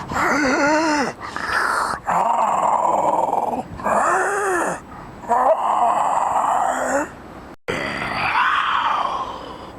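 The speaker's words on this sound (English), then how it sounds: "Impaled, but still alive, Slayer growls at his challengers." A dinosaur, impaled but alive, growls: deep, rough growls in repeated bursts of about two seconds each, loud and close, with short gaps between them.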